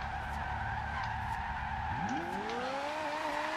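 A Ferrari F40 drifting in the Forza Horizon 2 racing game, engine droning loudly as a long tire skid squeals and rises in pitch, close and continuous without speech.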